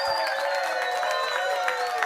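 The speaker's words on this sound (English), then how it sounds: "Let's give him one more round of applause" An audience applauds at a business open house, a dense, continuous wash of clapping filling the room with no break.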